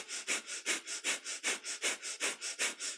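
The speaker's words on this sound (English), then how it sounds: "And take a deep inhale." During kundalini yoga, a person pumps the breath rapidly through the nose, about a dozen sharp, evenly spaced sniffing breaths close up and alone.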